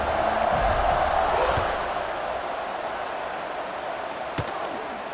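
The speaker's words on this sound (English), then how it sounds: "this crowd is buzzing after that last score" A stadium crowd in EA Sports College Football 26 buzzes after a touchdown, a broad, steady roar that eases slightly after the first seconds, with one sharp knock near the end.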